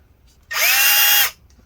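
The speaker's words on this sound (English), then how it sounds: "To use this, you actually have to use a drill." A cordless power drill spins up to drive a mini screw extractor into a stripped screw on a 2018 13-inch A1932 laptop, one steady close whirring burst of under a second with quiet before and after.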